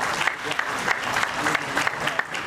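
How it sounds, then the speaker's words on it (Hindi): A large audience at a pharmacy event applauds loudly on stage, a dense and steady wash of clapping with sharper individual claps popping through the roar. "जोरदार तालियां।"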